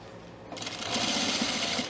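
A sewing machine runs a line of stitches along a zipper fly beside an existing seam, starting after a brief pause and then humming steadily and close up with no talk.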